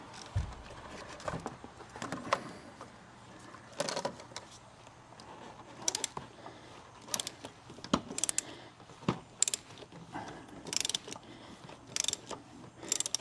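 A ratchet turns a Craftsman 27 mm impact socket on a BMW X3 oil filter, producing sharp intermittent clicks and metallic clacks in short irregular bursts against a quiet background.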